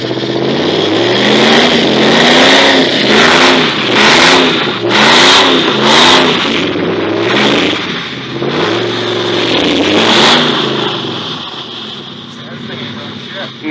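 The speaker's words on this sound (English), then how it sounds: "You hitting the gas? I was gonna say, that tire's still spinning." Dodge Durango engine revving hard in repeated surges with a tire spinning while towing an F-150, loud and close, with people talking over it.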